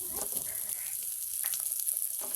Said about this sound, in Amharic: በርበሬው እንዲጠበስ በዚህ መልኩ እሳታችሁን ቀነስ አድርጋችሁ መካከለኛ ላይ አድርጋችሁ መጥበስ